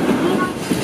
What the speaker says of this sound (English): It's so exciting to be waiting for the train.